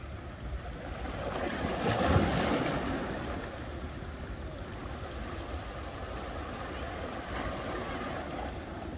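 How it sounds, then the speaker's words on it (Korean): Ocean waves washing ashore at sunset on Phu Quoc Island, Vietnam, a steady low rushing roar with a swell of surf in the early seconds and wind noise buffeting the microphone. "으아, 파도."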